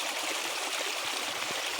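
Max Creek flowing steadily on a backpacking trail, a loud, close, continuous rush and trickle of water with no voices over it.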